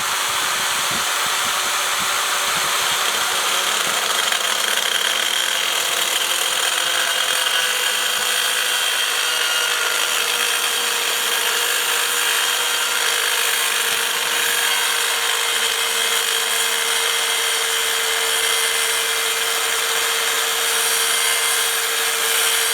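A railroad spike is cut with a power tool to make an oyster shucker, giving a steady, loud grinding whir that holds for the whole stretch with no talking.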